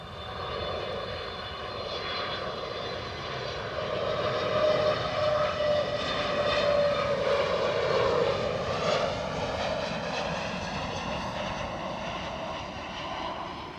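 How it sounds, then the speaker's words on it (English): An Airbus A320 arriving from London Heathrow at Edinburgh Airport passes with a loud, steady jet engine roar that swells toward the middle and eases slightly at the end, with a whining tone over broadband rumble and no talk. "A320 in from London Heathrow."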